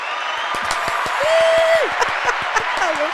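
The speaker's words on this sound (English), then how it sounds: "Here's the applause happening now." An applause sound effect played on a podcast: steady crowd clapping and cheering with a rising whistle tone over it, the sharp claps sounding close and continuous throughout.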